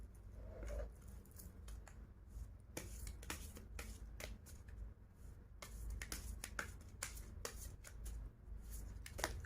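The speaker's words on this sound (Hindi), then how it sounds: "Allow me some time to shuffle the cards for you." Tarot cards being shuffled by hand, a series of crisp riffling flicks and papery snaps in irregular bursts, close and fairly quiet, with no voice over them.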